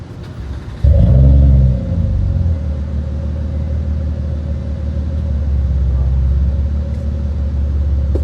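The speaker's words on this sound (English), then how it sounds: "I'm gonna start the car, get the AC going." A car engine cranks and catches with a loud burst, then settles into a steady low idle rumble heard from inside the car, continuing evenly to the end with no talking.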